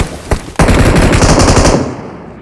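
Loud automatic gunfire in the video game PUBG Mobile. A single shot is followed by a rapid, sustained burst that fades out at the end.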